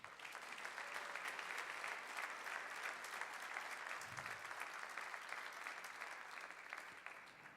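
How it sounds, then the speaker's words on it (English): Sustained applause from a seated audience honors current Hall of Famers at the North Central College 2013 Athletic Hall of Fame ceremony, a steady wash of many hands clapping at moderate distance throughout. "a special round of applause for our current Hall of Famers"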